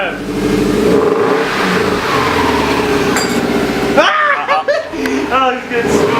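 The engine of a rusty Subaru WRX revs through a 3-inch Borla cat-back exhaust, a loud, steady throaty drone that swells near the end, while people talk and laugh over it close by.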